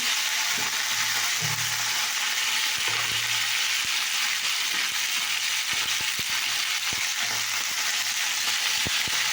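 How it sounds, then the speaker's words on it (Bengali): Continuous frying of cauliflower in hot oil with a bright, steady sizzle, punctuated by occasional knocks and scrapes of stirring. "তো এবার আমি ফুলকপিটাকে ভেজে নেবো।"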